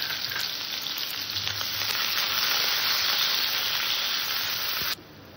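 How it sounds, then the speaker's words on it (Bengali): Chopped onion fries in hot oil in a home kitchen pan, giving a loud, steady, close hiss of sizzling that runs unbroken for about five seconds, then drops abruptly quieter; no one speaks. "পেঁয়াজ কুচিটাকে আমি একটু হালকা করে ভেজে নেব।"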